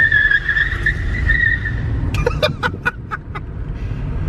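A $1000 electric car spins its tires around a corner, a loud, close squeal that holds for about two seconds and then gives way to a quick run of sharp clicks and scuffs.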